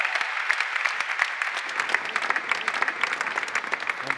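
Audience applause at a STEAM Co. event with talks, a steady dense clapping from a room full of people, moderately loud and continuous with no voices over it.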